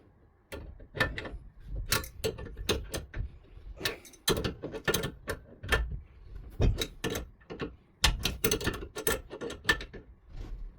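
Copper shower valve fitting being tightened with a wrench for a copper and PEX supply line, giving a run of sharp metallic clicks and ratcheting scrapes in irregular bursts, close and fairly loud, with no talking.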